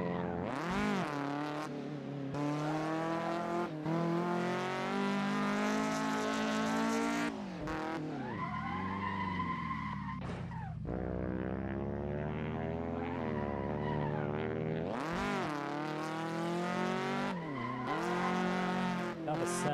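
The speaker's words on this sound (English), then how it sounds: "the sound of his engine is so exhilarating" A race car engine revs hard through a continuous run of rising and falling gear sweeps, with tires squealing and skidding, loud and close throughout.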